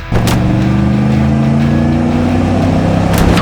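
A 1987 Chevrolet Camaro IROC-Z with the TPI 350 V8 and 22,000 miles drones steadily on a test drive, its engine note loud and close and sustained with a slight rise, and no talk over it.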